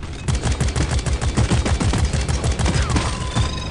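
Rapid automatic gunfire in Deep Rock Galactic, a loud, dense stream of close shots rattling continuously with no break, no voices over it.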